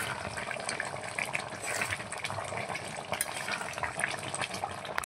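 Chicken kosha curry bubbles and sputters in a pot during village cooking, a close, busy, steady simmering crackle that carries on without pause and ends abruptly.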